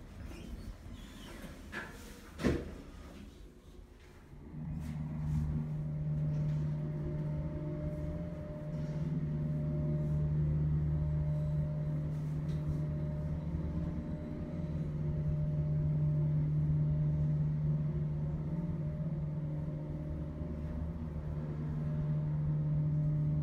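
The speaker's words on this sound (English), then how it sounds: "take us up to HR and we'll be quiet for the motor" Montgomery hydraulic elevator motor at a mining rig attraction, starting after a sharp clunk and then running as a steady, loud low drone with a constant hum, close by and uninterrupted, no speech.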